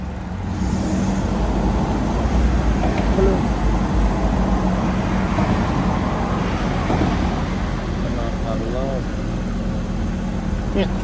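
A Toyota Revo pickup fitted with a Dino Box electric throttle revs continuously, its engine roaring loud and close with a steady, busy rumble the whole time, while someone talks over it.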